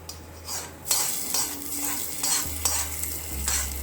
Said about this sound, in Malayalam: നമ്മൾ കടുക് വറുത്തത് നമുക്ക് തീയലിനകത്തേക്ക് ഒഴിച്ചു കൊടുക്കാം.